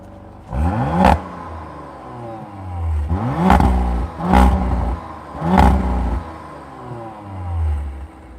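A 2021 Audi RS5 Sportback engine with a particulate filter revs hard four times in quick bursts, each rising sharply then dropping off, with a loud exhaust note rumbling between blips.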